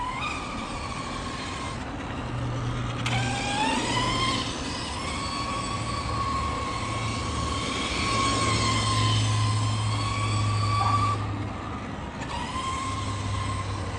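A Losi DBXL-E 2.0 electric RC car's repaired steering servo whines through turns one way and then the other, steady tonal buzzes with short pitch sweeps, nearby and continuous over a faint low hum.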